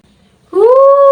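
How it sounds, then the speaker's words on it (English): A dog lets out a single loud, drawn-out, tonal howl-like bark, close and alone after a moment of near silence. "Yes, it must be the dog."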